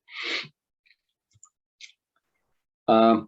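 Soft clicks advance presentation slides at a formal proposal open house, arriving as a few isolated taps between short bursts of nearby talk.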